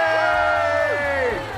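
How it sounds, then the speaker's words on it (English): Live crowd at CarFest South cheering and whooping, a loud, close burst of many voices, joined by a bright tooting horn that slides downward. "First official live cheer of CarFest South"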